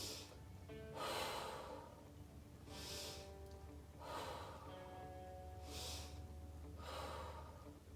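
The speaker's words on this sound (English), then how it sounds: "Inhale through your nose, inflate your belly, exhale through your mouth" Slow, deep breathing exercise at a calm pace, air drawn in through the nose and blown out through the mouth, four soft breath cycles close by and fairly quiet, no talking.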